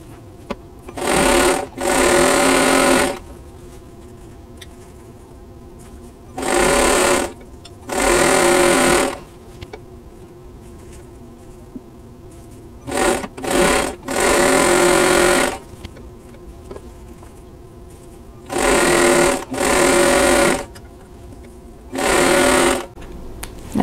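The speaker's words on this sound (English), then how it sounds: "So I'm going to put those right sides together and just sew with a quarter inch seam allowance." Sewing machine stitching quilt triangles for an Amish Star block with a quarter-inch seam, heard in six separate bursts of steady whirring with quiet pauses between them, close and loud with no talking.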